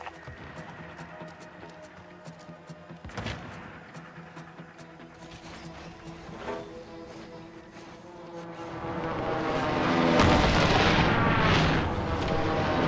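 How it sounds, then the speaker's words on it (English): A Nebula 5 bomb goes off far away in Call of Duty Warzone, a deep rumbling blast that swells and lingers over a low game background without talk. "Nebula 5 bomb detonation imminent."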